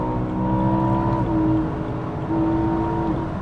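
A BMW M3 E90 accelerating on a motorway on-ramp, its engine note rising in steady harmonic sweeps with a brief shift and a second climb, close and loud throughout, with no talk.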